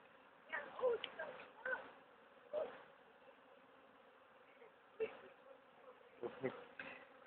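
Honey bees buzz faintly at an open hive in steady, soft droning, with a few louder passes as single bees fly close by.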